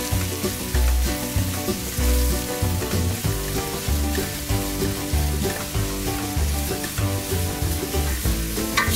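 Sliced leek and vegetables frying in a pot for leek soup, giving an even, dense sizzle that runs unbroken for the whole stretch while they are stirred now and then.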